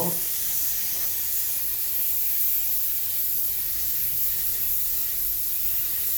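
A compressor-fed spray gun lays a light coat of Technicians Choice Tec580 ceramic coating onto a wheel, giving a steady, close, continuous hiss that runs unbroken throughout with no talking.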